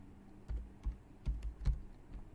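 Faint, close keystrokes on a computer keyboard, a handful of soft irregular taps in a quiet room.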